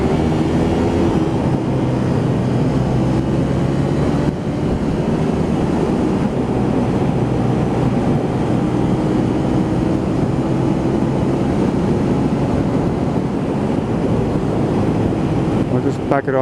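A 2007 Honda VTR250 motorcycle engine drones steadily while riding at high revs, thick with wind rush, as a rider talks over it throughout.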